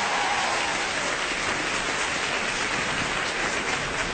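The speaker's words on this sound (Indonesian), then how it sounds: "boleh dengar tepuk tangannya nggak?" Sustained audience applause at a stand-up comedy show, a dense even clapping wash that stays loud and steady throughout with no voices over it.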